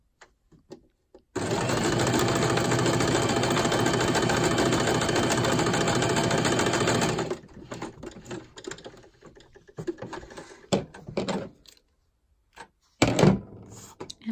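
A sewing machine stitching a pocket runs in one steady, loud, close whirring burst of about six seconds, then stops, leaving scattered handling clicks and taps.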